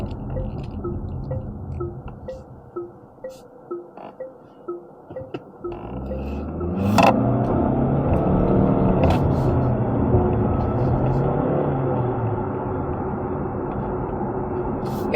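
A 2023 Chery Omoda 5 with a 1.5 engine, in sport mode, idles with a steady ticking indicator. Then it accelerates hard, and the engine and road roar rise and hold loud from inside the cabin.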